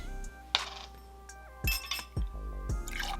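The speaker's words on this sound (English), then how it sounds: "1 ounce of our coffee liqueur" Coffee liqueur going into a mixing glass for a mocha espresso martini: a short splashy pour followed by several bright glass clinks and taps, close up, with no talking.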